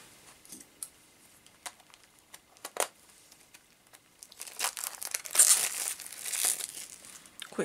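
A plastic Shopkins blind packet from the first series is opened by hand: a few scattered crinkles at first, then a dense burst of crackling and tearing plastic, close and fairly quiet.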